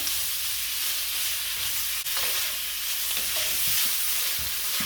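Beef sausage bits fry in a pot, sizzling continuously up close while a utensil stirs and scrapes now and then, with no one talking.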